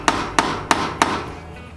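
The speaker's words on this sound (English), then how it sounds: "take a metal punch on the top of your roof rack to give yourself a little ding, a little nick, a little indentation" Four evenly spaced metallic taps ring out as a hammer strikes a metal punch against a round metal roof rack tube, close and sharp with short ringing decay.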